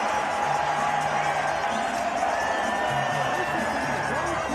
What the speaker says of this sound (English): The crowd's loving it at the MGM Grand Garden Arena.